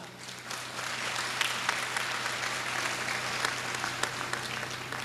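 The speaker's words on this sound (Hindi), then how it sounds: "अब सब ताली बजाएंगे, एक एक आदमी ताली बजाएगा।" An audience claps at a poetry event during an annual fair in Sagar, Madhya Pradesh: dense, steady applause from many hands, sustained and fairly loud throughout, with scattered sharper claps standing out.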